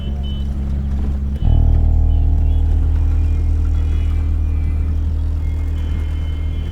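A car is driven on a steady run, heard as a low, constant engine drone and rumble from close by. The drone swells suddenly early on and then holds even.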